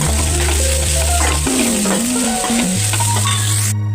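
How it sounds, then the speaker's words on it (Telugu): A constant loud sizzle with scraping and stirring as ivy gourd is stir-fried in a pan, under a layer of background music. "ఒక 2 నిమిషాలు ఫ్రై చేస్తాం"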